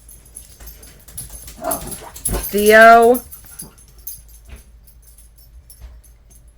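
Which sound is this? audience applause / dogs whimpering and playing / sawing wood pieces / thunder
dogs whimpering and playing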